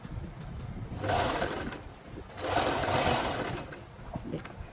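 A sewing machine stitches lace onto a dupatta in two rattling bursts of rapid needle clatter, each about a second long, with quiet pauses between and no talking.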